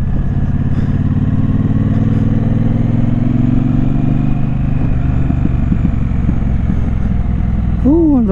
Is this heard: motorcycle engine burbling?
yes